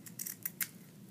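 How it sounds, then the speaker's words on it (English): Scissors snip through magnetic tape, a few quiet, quick crisp cuts heard close up in a still room. "with the help of a friendly pair of scissors"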